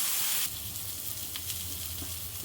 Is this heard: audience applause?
no